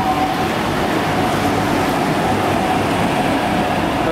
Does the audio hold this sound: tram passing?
yes